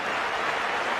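Cricket crowd applauding a batsman, its captain Border, after his innings of 76, a steady wash of dense clapping from a large stadium crowd with no break through the whole second.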